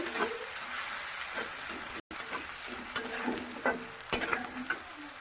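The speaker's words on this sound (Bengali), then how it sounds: "মশলাটা ভালো করে ভেজে নেব" Spice masala with tomato and onion fries in a pan for an egg gravy, with a continuous close sizzle, repeated scraping stirs and a brief silent gap partway through.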